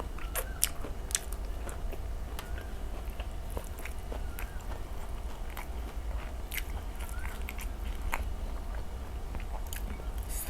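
Papaya flowers and leaves dipped in sambal chili paste are chewed close to the mic, giving irregular soft crunches and bites over a low steady background hum.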